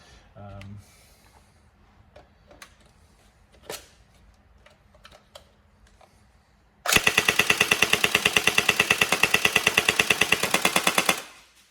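An upgraded Tokyo Marui SGR12 AES airsoft gun running a stock motor with an M90 spring fires one fast, loud full-auto burst of rapid even clacks lasting about four seconds, after quiet handling sounds.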